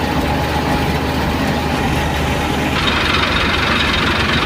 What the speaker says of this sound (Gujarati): 8-9 રેસ ઉપર હાલે છે ટ્રેક્ટર